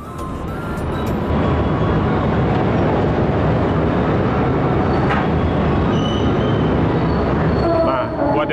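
The Argo Parahyangan passenger train rumbles steadily along the rails in Indonesia, a heavy continuous roar with faint clacks and a brief squeal near the end.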